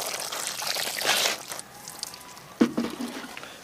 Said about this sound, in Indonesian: dan kemudian kita akan siram kembali